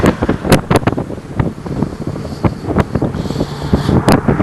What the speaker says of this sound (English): We have pretty good breeze blowing today